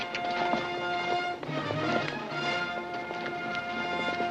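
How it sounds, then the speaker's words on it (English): Horses' hooves clip-clop at a steady trot in an outdoor western TV scene, a busy rhythmic patter under a constant background of music and ambience. "One of them's riding Dave Carr's horse"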